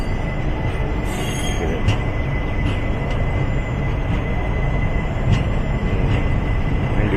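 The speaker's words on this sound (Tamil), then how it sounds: "வண்டி பிளாட்ஃபார்ம் விட்டு வெளியே வந்துடுச்சுங்க." A train leaves the platform at Nagarsol on a trip towards Shirdi, giving a steady rumbling roll with scattered clicks and brief metallic squeals from the wheels, heard from on board.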